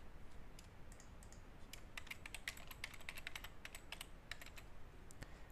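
Quiet, rapid keystrokes tap on a computer keyboard as login details are entered, irregular clusters of clicks over several seconds with no talking.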